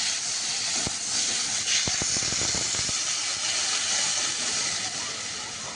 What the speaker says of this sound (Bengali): পটল আলু আর তো একসঙ্গে ভালোভাবে কষে নিয়েছি আর এবার একটু পরিমাণ মতো জল দিয়ে দেবো